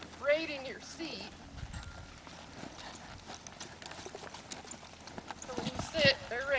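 Hooves clip-clop in quick, uneven bursts as a horse turns and rolls back during a three-barrel drill training exercise, with a rider talking over the footfalls and a faint neigh.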